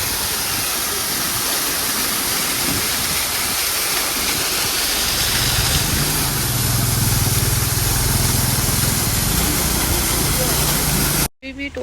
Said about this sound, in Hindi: यहाँ पे जहाँ पे झरना है वहाँ पे हम लोग रुके हैं।